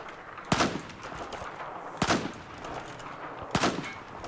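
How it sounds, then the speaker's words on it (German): Gunfire from a Battlefield 4 match: three sharp, punchy shots spaced roughly a second and a half apart over a low game ambience, each cutting off quickly. "ich konnte sehr schnell sehr viele Schüsse hintereinander abfeuern"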